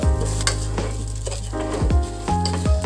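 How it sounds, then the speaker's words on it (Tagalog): Yang Chow rice is stirred in a pot for pilaf, with loud, close scrapes and clanks of a spoon against the metal over a low sizzle, in a few uneven strokes. "add the 2 cups of, I use the yang chow rice, and stir it well gradually"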